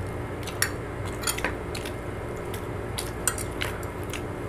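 Utensils clink and scrape while mixing Thai curry for a mukbang meal, with a few soft, scattered taps over a low steady background.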